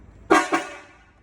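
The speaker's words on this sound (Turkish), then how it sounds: "Kornaların sesini duyun bak." Two short car horn honks in quick succession, loud and close, then fading quickly into quiet.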